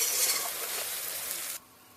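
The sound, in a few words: spice paste being fried and stirred in a pan for meat curry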